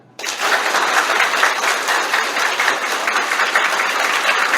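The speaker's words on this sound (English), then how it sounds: "So, clap." Students in a first-year engineering orientation session clap their hands together, a sudden dense burst of applause that starts abruptly and holds steady and loud throughout.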